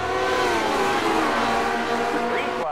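Indy Classic Series race cars at Indianapolis accelerate out of turn four, a pack of engines blending into one loud, continuous, high-pitched roar that holds steady throughout.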